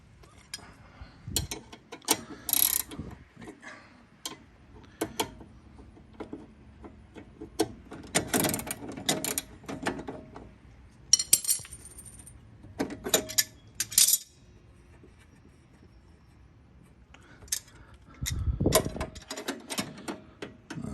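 Ratchet wrench tightening the pinch bolt on the front control arm of an Audi B8 A4, A5, S4, S5 or Q5, heard as scattered bursts of close metallic clicking and clanking separated by quiet pauses, with no talk.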